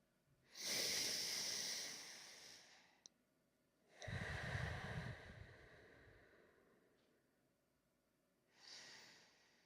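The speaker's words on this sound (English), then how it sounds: "Let's recover with NSL breathing." Slow, deep nasal breaths during recovery breathing after a breath hold, each long inhale and exhale a soft airy rush through the nose, three breaths heard close and quiet.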